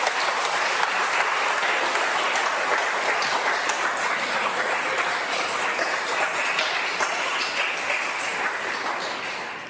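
Sustained applause from a college audience fills the room, steady dense clapping at a fairly even level that tapers slightly toward the end, with no talk over it.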